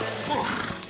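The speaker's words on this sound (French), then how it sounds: "c'est le joli dada du gentil sergent" A cartoon horse, the sergeant's mount in a Zorro animated series, gives a brief whinny close by, mixed with bits of talk.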